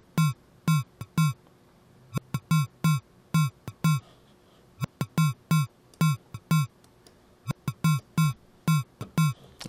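Electro drum loop programmed in the Massive synth with sample-and-hold bit crushing, a steady pattern of punchy low kicks and crisp clicky hits repeating in tight clusters, dry and prominent with no voices.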